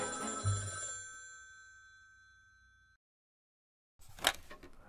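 A telephone bell rings once with a bright metallic tone that slowly decays, followed by a brief silence and then a short burst of noise.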